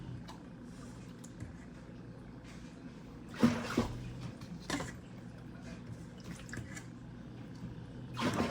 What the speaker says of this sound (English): I'm just going to be rinsing out the cloth that we have in here.